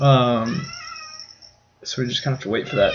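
A house cat meows faintly in the background while a person talks over it, the cry partly masked by the speech.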